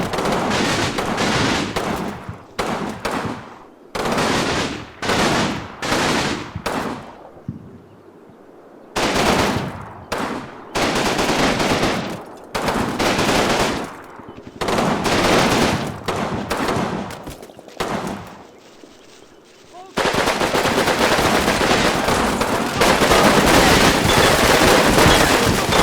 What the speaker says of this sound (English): get the LMG portion to actually spray down the buildings